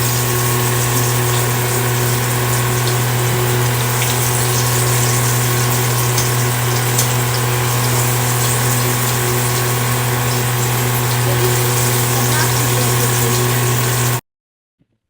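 Steady, loud sizzling and hissing of pakoras frying in hot oil, continuous with a low hum underneath, then cutting off abruptly near the end.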